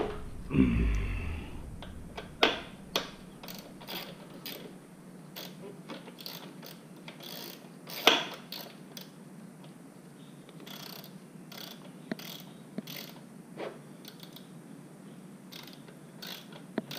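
A ratchet working on a motorcycle fork that will not tighten, giving scattered clicking and mechanical ratcheting bursts at close range over a low steady hum, with no talking.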